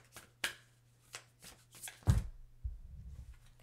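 Moonology oracle cards being shuffled by hand, a few crisp riffling flicks and soft slaps, then a couple of duller thumps as the deck is squared, close and fairly quiet.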